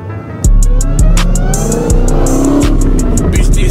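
A 900-horsepower Dodge Hellcat fitted with a JLT intake roars loudly up close, its engine note rising and falling through repeated revs, with a faint voice briefly underneath.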